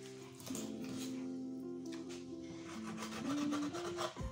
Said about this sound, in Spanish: vamos metiéndole por aquí el cuchillito para quitarle toda la espina que hay por este lado